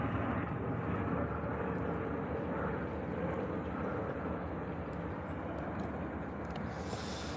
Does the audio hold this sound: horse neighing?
no